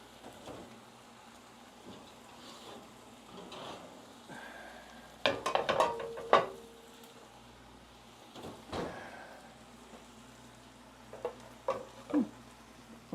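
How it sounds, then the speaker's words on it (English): Potatoes tipped into a skillet with cooked shrimp, clattering against the pan with scraping utensil sounds and a low sizzle, in bursts of handling with little talk. "Now I'm going to add my potatoes."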